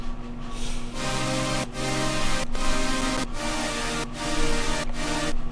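A wide, layered chaos saw synth lead with Haas stereo widening, built for a melodic dubstep drop, plays sustained chords in steady repeating bars with brief gaps between phrases, loud and dense with no voices.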